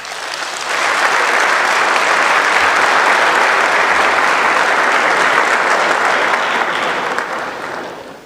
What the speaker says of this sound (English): Another round of applause for our President and CEO, Mr. Samaila Zubairu.